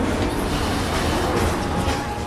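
Train rumbling into Sector 5 station in the video game Final Fantasy VII Remake, a loud continuous rolling roar of wheels on rails with no pause throughout.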